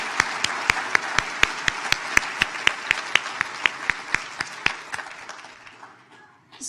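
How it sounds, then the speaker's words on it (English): Steady, evenly spaced claps at a medical school white coat ceremony in a hall, a crisp rhythmic beat of clapping that thins out and stops near the end. "Let's give him another round of applause."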